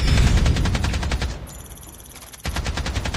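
Rapid automatic gunfire in the video game Call of Duty Mobile rattling loudly, stopping briefly for about a second before another burst resumes.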